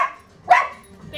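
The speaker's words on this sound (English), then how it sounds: "She should bark one time for each finger I hold up." A dog performing tricks at a birthday show gives one sharp, close bark in the middle, with faint yips before and after it.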